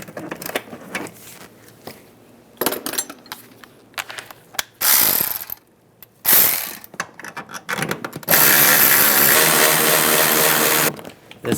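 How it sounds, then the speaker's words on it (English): Ratchet wrench with a 15mm socket spinning off nuts on a 2007-2013 Chevrolet Silverado 1500 during a front axle seal job, with bursts of fast clicking ratcheting, louder sustained whirring stretches and clanks between, close up. "15mm socket. Take these nuts off."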